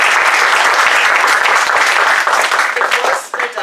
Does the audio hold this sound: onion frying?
no